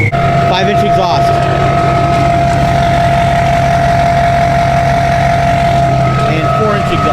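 A Duramax diesel truck with a 5-inch exhaust runs steadily at idle, a continuous loud droning rumble with a low pulsing throb and faint tonal hum, heard alone throughout.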